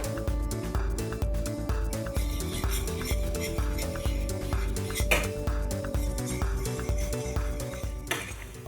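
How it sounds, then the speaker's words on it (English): Spaghetti is stirred and worked in a pan over gentle heat so that it releases its starch into the sauce. A utensil scrapes and clinks against the pan in a steady, close rhythm over a faint sizzle. "You need to work it a little bit in the pan and it releases the starch."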